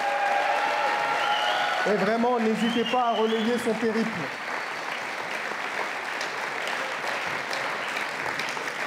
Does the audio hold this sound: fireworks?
no